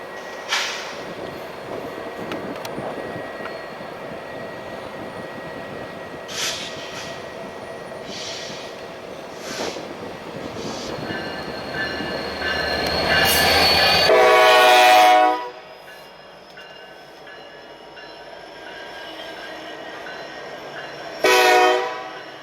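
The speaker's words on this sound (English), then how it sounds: "It is practice for all trains to blow their horn before entering the tunnel." A Norfolk Southern freight train with a helper set rumbles steadily past near the Gallitzin Tunnels on the Pittsburgh Line, then sounds one loud, sustained horn blast before entering the tunnel, followed by a short final horn note; no talking.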